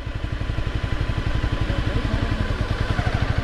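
A Honda CBR 250 motorcycle engine runs steadily up close while riding off-road on a rainy trail, its low, rapid pulsing firing beat throbbing evenly with some mechanical clatter, and no voices.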